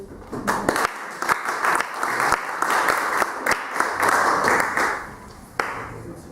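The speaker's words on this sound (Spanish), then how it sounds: "también los podemos aplaudir" Applause from the audience at a vocational congress, a crowd clapping together with sharp individual claps standing out, rising and falling in waves before thinning toward the end.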